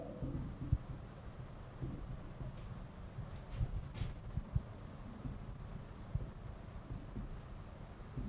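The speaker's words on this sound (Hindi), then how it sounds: "मैं चैप्टर का नाम लिख देता हूं पहले।" Chalk or marker scratches across a board as a chapter name is written, a soft close scraping in short strokes and taps over faint room noise.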